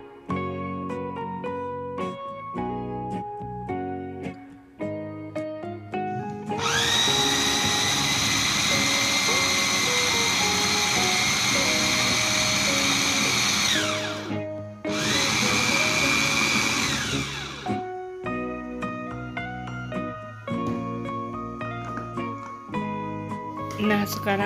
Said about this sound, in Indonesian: jagung manis yang sudah saya sisir ini dengan menggunakan chopper